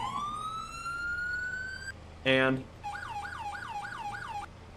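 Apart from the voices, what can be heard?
police vehicle sirens in the video game Farming Simulator 22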